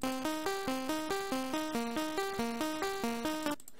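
A rapid sequence of bright, buzzy square-wave synth plucks plays a repeating rising arpeggio pattern, evenly spaced and fairly quiet, ending abruptly.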